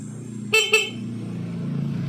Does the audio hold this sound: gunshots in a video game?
no